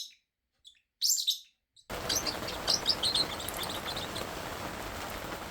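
Small Forpus parrotlet chirps in short bright bursts, a few isolated calls at first, then a busier run of repeated chirps over a steady background hiss.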